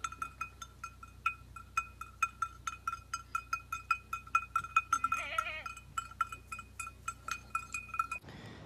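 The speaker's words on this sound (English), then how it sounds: "Sheep and goats are all over the place here." Sheep and goats in a Greek village on the Ionian Sea bleat faintly now and then while their cowbells clink and jingle steadily in a loose rhythm, with a quiet outdoor background.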